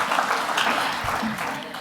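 An audience applauds at a foreign policy talk, a dense wash of clapping that holds steady for a couple of seconds, close and fairly loud, with voices mixed into it.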